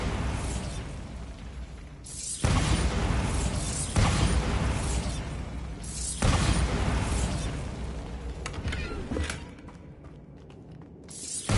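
Bombarda blasting-spell explosions in Hogwarts Legacy: three loud, close bursts roughly two seconds apart, each a broad crack followed by rumbling, fading into quieter crackling and debris at the end.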